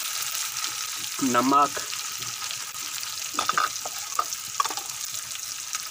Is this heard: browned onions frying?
yes